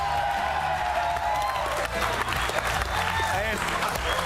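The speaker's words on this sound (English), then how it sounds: "Keep the applause going" A studio audience applauding steadily and loudly at the start of a rugby league show, dense continuous clapping under a host's voice speaking over it.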